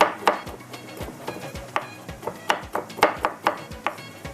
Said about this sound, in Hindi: बादाम को भी थोड़ा कट कर लेते हैं